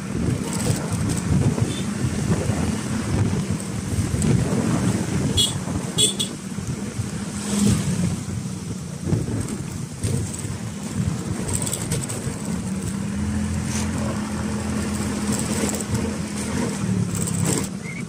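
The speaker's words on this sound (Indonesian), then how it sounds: "Iya, kapal penyeberangan." A ferry boat on a river near a village in West Kalimantan, a steady rumbling engine drone with a continuous low hum and water wash throughout, fairly loud, with faint voices mixed in.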